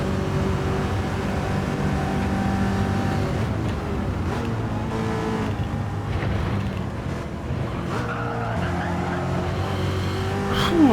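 Race car on the Le Mans circuit in Gran Turismo 7, a loud engine drone with rising squealing tones near the end as the tyres lose grip under hard cornering.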